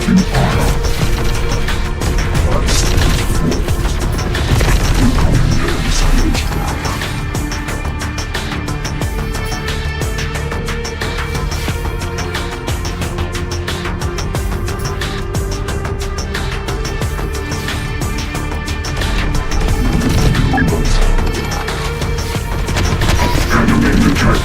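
Sustained gunfire in the game Terminator: Dark Fate Defiance, loud and steady with rapid automatic bursts, crashes and booms layered over a constant battle din, with no one talking.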